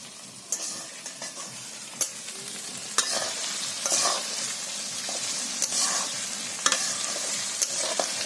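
Dried chilies, green chilies, bay leaves and dal frying in a pan for a broiler chicken curry. A steady sizzle runs throughout, with sharp ticks and spoon scrapes at intervals from stirring, close up and with no talking.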